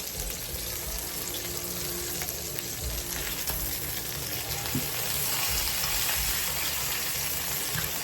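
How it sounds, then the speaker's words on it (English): Steady, close sizzling of flounder frying in a hot pan, a continuous crackling hiss that holds evenly throughout with no talking. "Now we're frying."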